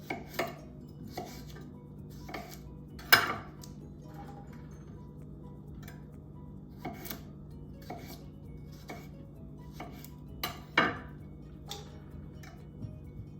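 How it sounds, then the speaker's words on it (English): Carrots, potatoes and shallots are mixed in a dish with salt and pepper, heard as faint, sparse clinks and taps of utensil against the dish, with one sharper knock midway, over a quiet room hum and no talk. "And then we're just going to mix the carrots and potatoes and shallots in there."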